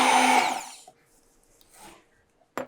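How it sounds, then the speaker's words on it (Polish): A kitchen blender mixing a sauce of olive oil, lemon juice, garlic and salt gives a loud whirring burst that winds down within a second, followed by quiet handling noises and a short sharp clatter at the end. "zmiksuj sos blenderem"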